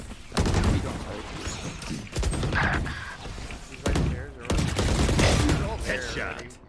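Valorant gunfire rings out in loud, dense bursts of rapid shots with heavy impacts, broken by short pauses, while players talk over the action.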